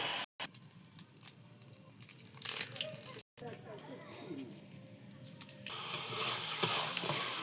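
Soybean chunks frying in a pan sizzle unevenly in short bursts with brief gaps, while faint talk sits in the background.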